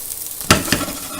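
Mushrooms and onion sizzle in a small frying pan, with two quick stirring scrapes and a hiss close by for about a second.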